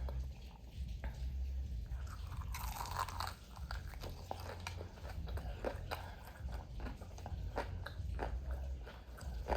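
Loud, crisp crunching of a fried chicken wingette bitten and chewed up close, a sharp first bite followed by repeated crackly chews over several seconds.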